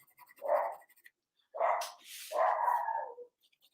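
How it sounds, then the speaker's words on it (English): A dog barks three times, close and loud, with short gaps between the barks and near silence around them. "And the dog's barking."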